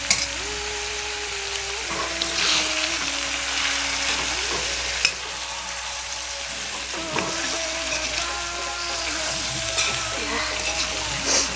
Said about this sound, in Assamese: এতিয়া এইখিনি সুন্দৰকৈ ভাজিব লাগে।